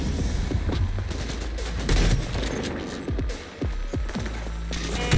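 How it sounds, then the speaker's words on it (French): Gunfire in the video game Cyberpunk 2077 crackles in rapid bursts of sharp shots mixed with booms, fairly close and dense, over game ambience. "J'ai entendu des coups de feu."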